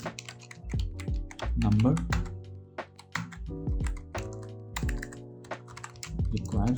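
Someone talks steadily while typing code on a computer keyboard, the quick key clicks faint and scattered beneath his voice.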